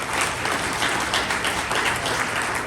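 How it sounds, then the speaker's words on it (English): An audience at a mayoral and city council candidate forum applauds, a dense, continuous wash of clapping held at steady volume throughout. "Let's give them all another big round of applause."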